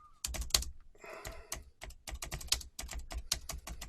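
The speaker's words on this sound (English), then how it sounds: "Sorry about the typing noises." Fast typing on a computer keyboard, a dense stream of close key clicks with a brief pause near the start.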